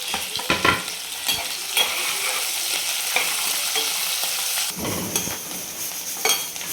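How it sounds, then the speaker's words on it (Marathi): Chopped onion sizzles and crackles in a hot pan for a Maharashtrian samosa filling, with steady frying hiss broken by a few louder stirring scrapes, close and alone with no talk. "आपण याच्यामध्ये कांदा टाकून घेणार आहे"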